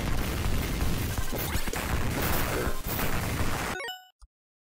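Dense, chaotic explosions and crashing blasts from the video game Contra Hard Corps pile up loudly for about four seconds, then cut abruptly to silence after a final short hit.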